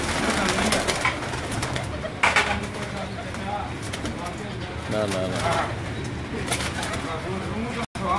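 Gogay breed pigeons coo softly in the background while people talk over them, with occasional wing flaps and rustling.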